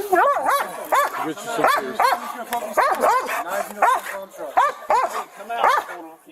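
A police dog barks loudly and repeatedly at close range during a house search, with rapid excited yelps in an uneven rhythm and people talking under it.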